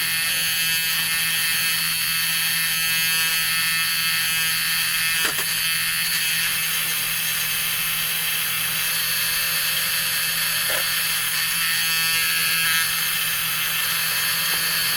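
Electric paint mixer running steadily in a can of car paint for a 1965 Dodge Coronet, a constant loud motor buzz with a low hum, no talking.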